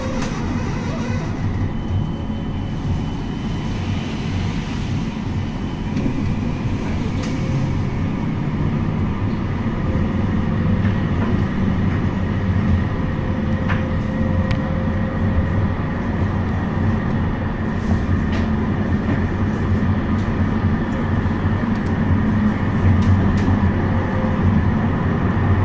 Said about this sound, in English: This tram terminates at Wolverhampton Station.